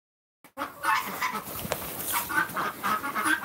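Chickens clucking around a farm chicken coop, a steady mix of close and scattered fowl calls and rustling that carries on continuously after a brief silent start.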